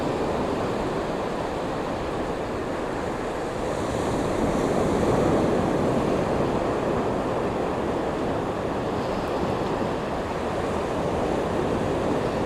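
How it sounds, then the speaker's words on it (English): Ocean waves break steadily on Clearwater Beach on a chilly evening at sunset, a loud, continuous roar of surf with a gentle swell in the middle and light wind. "And listen to those waves."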